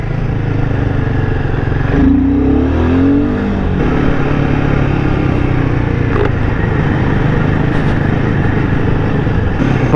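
A motorcycle engine in the racing game Traffic Rider drones loud and close without a break. Its pitch swells and sweeps briefly as the throttle revs, then settles back into a steady roar.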